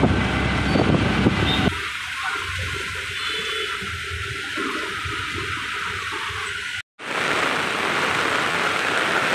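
Heavy rain falling outdoors in Kandivali West, Mumbai, heard as a loud, steady wash of water that shifts character partway through, briefly cuts out, then resumes as an even, close rush.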